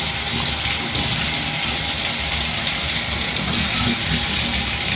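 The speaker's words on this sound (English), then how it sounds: "all that I do is I run the water till it gets real hot." Hot water runs steadily from a kitchen tap, a loud, continuous broadband gush with no pauses and no voices.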